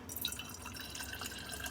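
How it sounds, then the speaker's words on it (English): Water trickles and drips into a glass jar that held pasta sauce, a soft, steady pour close by in a quiet kitchen while vegan vegetable lasagna is being made. "I'm just going to go ahead and add a little bit of water in the jar."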